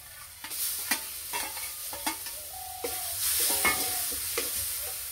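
Boiled masoor lentils going into a pan with a little water and being stirred for lentil paratha filling, a series of soft scraping stirs over a low steady hiss, close and moderately quiet, with no talking.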